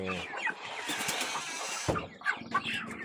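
Broiler chickens cluck and murmur close by in a short burst of overlapping calls, with a brief rustle partway through.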